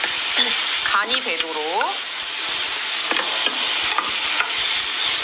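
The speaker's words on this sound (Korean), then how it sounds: "볶아주시고 자, 여기에다가 소스를 조금 넣어서 먼저 한번" Pasta being stir-fried with sauce in a pan, a steady broadband sizzle with scraping stirs throughout, while a voice talks briefly over the cooking near the start.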